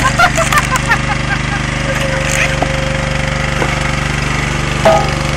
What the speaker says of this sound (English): And this shows you the power of the splitter.